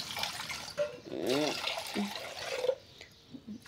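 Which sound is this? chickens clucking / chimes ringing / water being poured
water being poured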